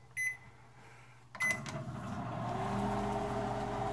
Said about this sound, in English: We have here a classic Panasonic brand label microwave, and we're just gonna put this in here.